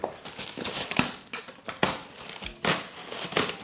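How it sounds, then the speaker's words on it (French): Flat-pack furniture boards and screws lifted out of a cardboard box with polystyrene protection, making a run of close crinkling, rustling and scraping bursts with short pauses and no voices. "on va commencer par déballer le carton. Donc sortir les planches, les vis du carton"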